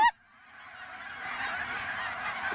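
A flock of geese honking on a hunt with decoys set out, one sharp call up front and then a dense, steady chorus of many birds carrying on to the end.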